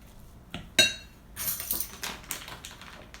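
A metal tablespoon clinks against a bowl while an ingredient is added to low-carb blueberry scone batter, a few sharp close taps followed by softer scraping and clattering.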